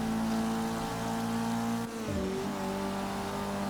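Race cars in Forza Motorsport 6 at Watkins Glen, a loud continuous engine drone that dips briefly with a gear change or lift before the revs climb again, heard close and without talk.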